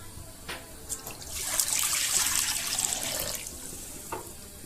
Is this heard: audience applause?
no